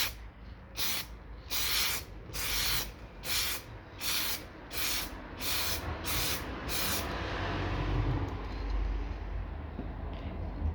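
Black spray paint going onto a car body outdoors as a second coat, in about eight short hissing bursts roughly a second apart, loud and close, then steady low wind rumble.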